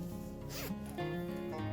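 The zipper of a handmade EVA foam phone pouch is drawn in one steady, close pull lasting under two seconds, over a faint hum.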